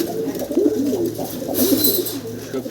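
Breeding pigeons coo in repeated low, rolling phrases, fairly close and steady, with a faint background hiss and no one talking.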